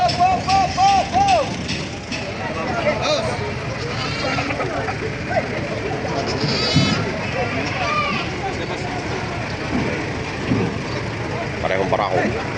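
Goats at a livestock market in Padre Garcia, Batangas bleat repeatedly, several wavering calls near and far amid a crowd of people talking and shouting.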